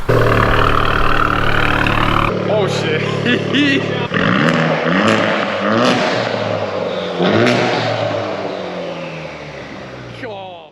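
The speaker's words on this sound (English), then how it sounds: "we are getting the Honda Civic FK2 Type R onto the dyno" A Honda Civic Type R FK2 on a dyno at a tuning shop roars loud and steady for about two seconds, then cuts off abruptly, and people talk and exclaim over the fading mechanical noise.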